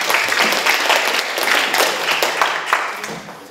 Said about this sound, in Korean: 박수를 모시겠습니다